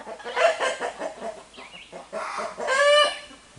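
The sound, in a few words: rooster clucking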